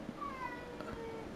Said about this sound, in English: My cats are yelling.